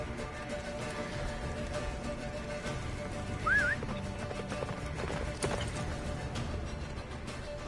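Hooves of the horse Roach pound in a steady gallop in the video game Witcher 3, a continuous rumbling clip-clop under wind and music, with a brief whinny partway through.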